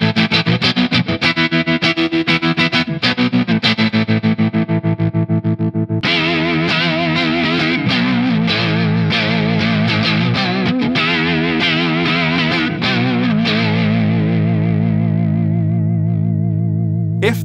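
Electric guitar run through vibrato and tremolo pedals pushed to extreme settings, loud and sustained with distorted, wobbling pitch and pulsing volume, the character shifting partway through as a second effect takes over, with no talking.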